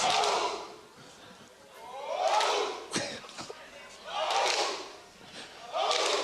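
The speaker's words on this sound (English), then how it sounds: "It's all about team fighting once more as Roman warms up the crowd once again" An esports arena crowd at an EU LCS League of Legends match shouts and cheers in loud, rhythmic swelling waves that rise and fall about every two seconds, broken by a few sharp thumps.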